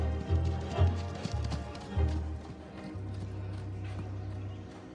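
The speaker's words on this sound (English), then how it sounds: "Now, canter Blades will finish up the first direction with the enter" Horse hooves striking an arena surface during a dressage test at a 2022 event, a steady clip-clop rhythm close by, with faint background sound and no speech.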